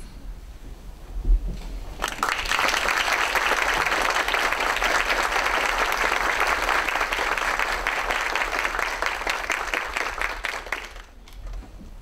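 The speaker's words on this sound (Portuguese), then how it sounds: "pedimos a todos os coordenadores e advisors que fiquem de pé para uma salva de palmas" Standing ovation at an academic opening lecture ceremony for coordinators and advisors: a large audience's dense, steady applause builds quickly, holds loud and even for about nine seconds, then fades, with no talk over it.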